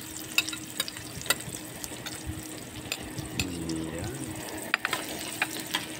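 Garlic sautéing in a pan for adobong sulib, a soft steady sizzle with scattered clicks of utensils against the pan, a brief water-like gurgle midway, moderately close.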